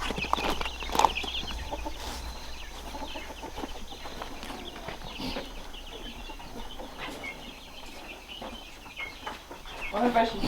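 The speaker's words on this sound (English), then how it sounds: "Last of the chickens are going to their new home." Chickens on a homestead cluck and squawk in scattered, overlapping calls while being moved into a new pen shared with turkeys, with rustling handling noise throughout and a brief louder burst near the end.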